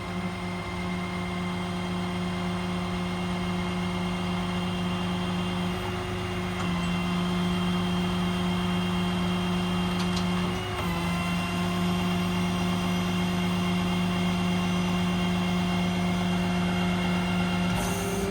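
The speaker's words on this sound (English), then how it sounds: "It's a 2-stage hydraulic extension out to 20 feet" A Summit hydraulic crane boom on a 2015 Kenworth T270 with an ISB Cummins extends in two stages, giving a steady, loud mechanical drone with a constant low hum that holds throughout, shifting slightly midway.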